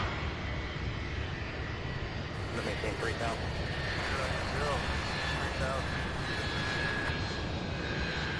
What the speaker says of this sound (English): we've got three 757s landing practically just back to back to back